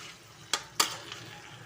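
Chicken with masala being stirred in a pan, with two quick scraping strokes over a soft, steady sizzle.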